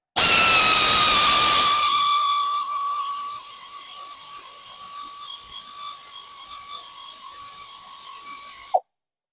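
A loud, high-pitched mechanical whine grinds steadily as a removal tool drills into a Ford spark plug, starting harsh and then settling into a thinner, sustained drilling tone for several seconds before cutting off.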